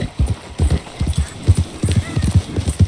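Rhythmic clip-clop of horse hooves trotting close by in Red Dead Redemption 2, with a brief whinny mixed in.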